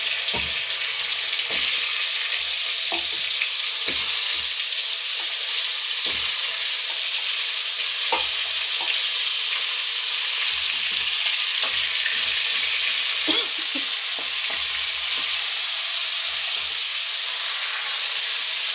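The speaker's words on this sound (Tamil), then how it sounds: "கருவேப்பிலை போட்டோடனே இப்போ நம்ம கழுவி வச்ச மாங்காய் துண்டை அதிலே போட்டுறணும்" Mango pieces fry in hot oil with popped mustard seeds and curry leaves for a raw-mango pachadi, giving a steady loud sizzle throughout with scattered clicks and pops of stirring, and no voices.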